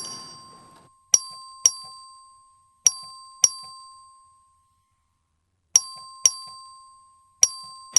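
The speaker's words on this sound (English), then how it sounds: "the clerk will ring the bell" A bell in a state House chamber rings in bright metallic pairs of dings, three double strikes with a pause before the last three, each ringing briefly in a quiet room.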